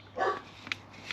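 A pet dog barks somewhere near a garden allotment, giving a couple of short, moderately faint yaps in a brief burst.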